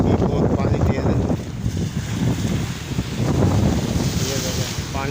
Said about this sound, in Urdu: یہ دیکھیں پانی کتنا تیز ہے اور ہوا بھی بہت تیز ہے